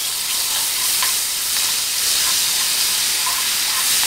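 Spices with cumin and paprika fry in hot oil for an eggplant dish, giving a dense, constant hissing sizzle with a few faint clicks from stirring underneath, no voices.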